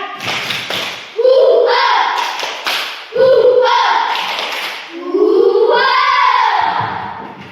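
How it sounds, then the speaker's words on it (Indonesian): A class performs a rhythmic clapping chant, with children's voices rising and falling in sung phrases over three bursts, and taps and claps mixed in. The sound is loud and close. "coba tepuk semangat"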